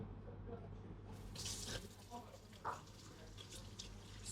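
A kitchen tap runs steadily while fish are washed, with water splattering and a few clinks over the flow and some quiet voices in the background.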